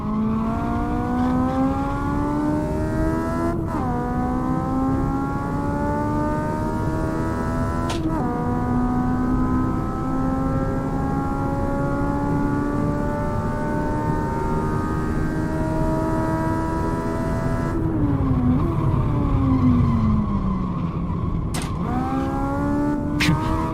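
A car engine in the Assetto Corsa racing game revs high, its pitch climbing steadily through each gear before dropping sharply at several quick upshifts. The sound stays loud and continuous throughout, with no talk over it.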